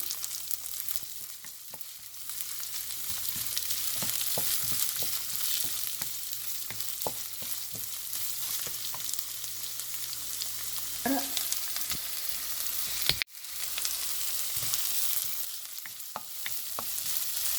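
Chopped onions fry in a pan for a potato roti dish, giving a steady close sizzle broken by scattered clicks and scrapes from stirring, with one brief dropout near the end.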